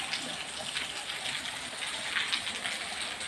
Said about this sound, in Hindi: धीरे धीरे बारिश हो रही है।